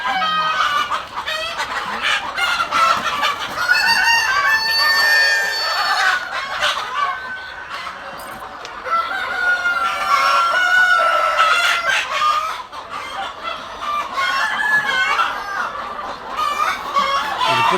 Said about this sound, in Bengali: প্রত্যেকটা খোপের মধ্যে মুরগি বসে আছে